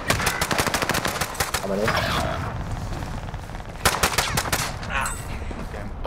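Rapid automatic gunfire in the video game Warzone, bursts of sharp shots and fusillades nearly filling the stretch with a brief lull, while a player speaks over it.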